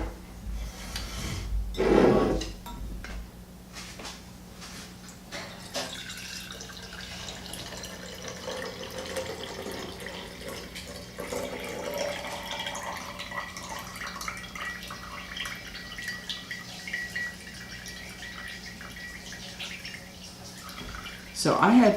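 Homemade cold brew coffee, made from 2 ounces of grounds steeped in 2 cups of water, is poured into a jar as a faint liquid trickle. It follows a short clatter early on, with quiet room noise throughout.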